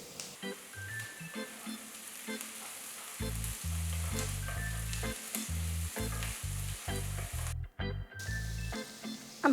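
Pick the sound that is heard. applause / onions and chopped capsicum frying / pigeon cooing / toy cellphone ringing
onions and chopped capsicum frying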